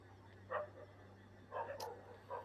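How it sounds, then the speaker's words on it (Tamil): A dog barks somewhere off to one side, three short separate bursts spaced about a second apart, moderately distant and fairly faint over a low steady hum, with no talk. "நாய் குலைக்குது கைஸ் அந்த பக்கம்."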